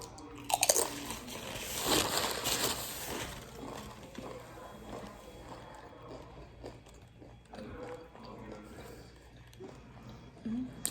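Crunchy cheese-flavoured nuts crushed and chewed close to the mic during a mukbang, with bursts of crisp crunching and softer chewing between them, plus quiet talk in the background.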